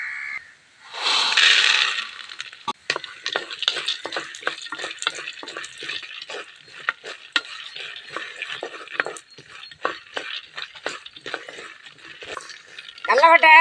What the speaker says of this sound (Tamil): கடலப்பட்டை நல்லா பொன்னரமாக வறுத்து விட்டா கம்மன்னு வாசமாக இருக்கும்